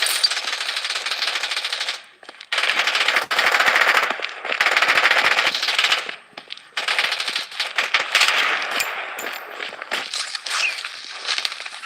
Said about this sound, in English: Defensive turret activated.